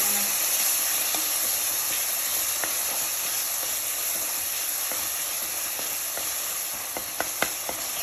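Finely chopped tomatoes sauté in hot oil for a Tamil fish curry, with a loud, continuous sizzle and a few scraping stirs and clicks near the end, no voices.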